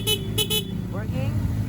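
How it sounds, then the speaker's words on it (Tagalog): A CFMoto 500SR motorcycle horn gives three short, loud honks in quick succession. A steady engine idle runs under the honks and continues after them, and a brief voice is heard near the end. "Busina natin."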